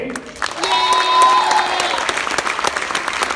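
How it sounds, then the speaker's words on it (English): Audience applause at a high school show choir competition, a dense burst of clapping from a large crowd that swells and holds steady, with a few brief cheers rising over it. "And yes, you can clap for that."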